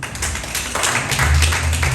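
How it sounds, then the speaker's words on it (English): An audience at a Ghana tourism industry event applauds with loud, dense clapping that continues steadily for a couple of seconds. "a round of applause again"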